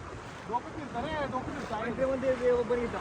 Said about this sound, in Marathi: अतिशय समुद्र खवळलेले आहेत